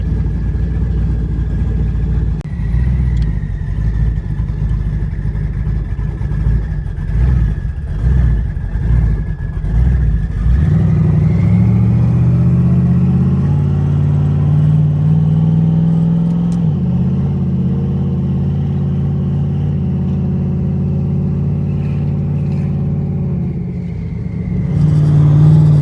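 A 1500-horsepower 2010 Chevrolet Camaro SS revs hard while driving, a loud, continuous engine roar with rising and falling pitch as it climbs through gears, heard up close from inside the car with no talking.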